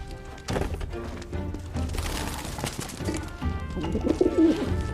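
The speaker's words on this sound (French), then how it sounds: "Un pigeon?" A pigeon coos softly in Final Fantasy VII Remake, its low rounded calls near the end sitting over a busy game soundtrack and ambient noise.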